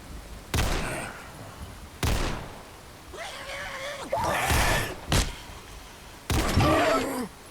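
Gunfire in Fallout 4 with a zombie apocalypse mod, loud sharp shots repeating at intervals, some with longer rumbling tails and a grunting voice between them.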